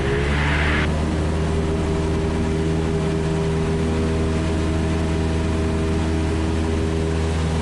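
A small training airplane's piston engine drones loud and close inside the cabin as the throttle comes up, a steady low roar with strong propeller hum throughout and no speech.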